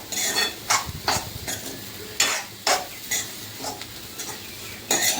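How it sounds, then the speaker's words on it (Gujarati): Garlic being stirred in hot oil in a pan over a low flame, with repeated scraping strokes of a spoon over a soft, steady sizzle, heard up close. "આપણે ધીમા ગેસ એને થોડીક વાર હલાવશું આવી રીતે"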